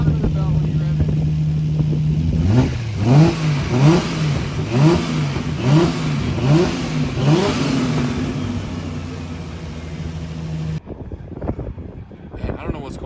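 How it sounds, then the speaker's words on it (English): A freshly rebuilt turbocharged drift car engine idles, then revs in a rhythmic series of sharp throttle blips, loud and close, before cutting off abruptly; wind buffets the microphone throughout. "I don't know why this engine breathes so much for being a fresh motor."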